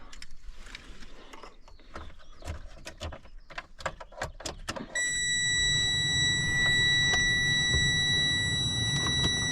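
Electronics in a Chery QQ car after a crash give high, steady electronic tones that hold on once the power is switched on, over a low hum, following a run of clicks and taps.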